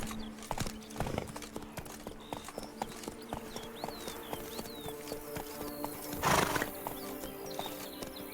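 Roach, the horse in The Witcher 3 game, clops along at a steady trot-to-gallop with a rhythmic run of hoofbeats. A whinny breaks out briefly near the end, and birds chirp faintly in the background.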